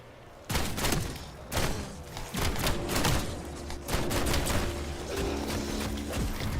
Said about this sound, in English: This is a shotgun, bro?